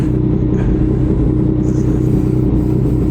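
A Yamaha MT09 motorcycle on a short night ride, its engine giving a loud, steady low rumble close to the rider with traction control off, continuous and even for the whole stretch without any voices.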